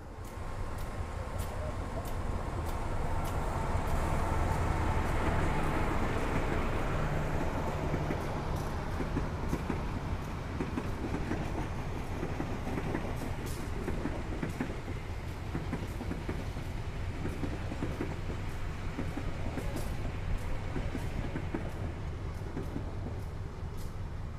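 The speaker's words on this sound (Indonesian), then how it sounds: "Itu dia teman-teman, kereta Argo Merbabu." Argo Merbabu passenger train rolling past Semarang Poncol station, a loud steady rumble with faint wheel clatter that holds for the whole stretch without letup.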